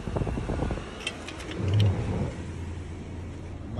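A 2012 Subaru Outback idles with the air conditioning running at full blast, giving a low steady engine rumble and broad fan whoosh that swells slightly for a moment, heard close and alone.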